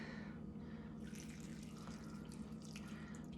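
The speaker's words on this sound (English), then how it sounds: "Pour it right on there." Broth pours and splashes softly over instant clear noodles in a bowl over a low steady background hum, faint and close.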